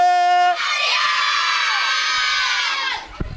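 Primary schoolchildren at an inter-primary sports event screaming and cheering together in a loud, sustained high-pitched crowd shout lasting about three seconds, following a brief voice call.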